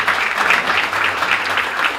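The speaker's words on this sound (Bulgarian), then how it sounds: "Аплодисменти за Карлово и карловци!" An audience at a public gathering in Karlovo claps in steady, dense applause, loud and continuous throughout the short moment with no voices over it.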